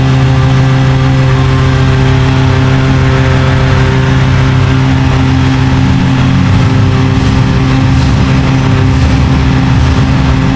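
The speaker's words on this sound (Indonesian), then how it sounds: "ini nyalakan pompa, ini mendorong oli yang baru masuk ya" An oil flushing pump runs during a CVT fluid change on a Honda Jazz automatic, giving off a steady, unbroken mechanical hum with a constant low drone for the whole stretch and no voices.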